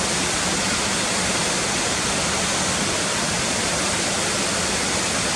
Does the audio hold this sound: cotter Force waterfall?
yes